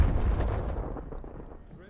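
A frag grenade explodes in a Call of Duty Black Ops Cold War match, a heavy booming blast up front that decays into a fading rumble over about two seconds.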